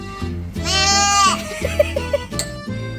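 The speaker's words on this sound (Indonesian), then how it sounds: "Itu dia kambingnya." A goat gives one loud, wavering bleat close by, followed by a few short bleat fragments.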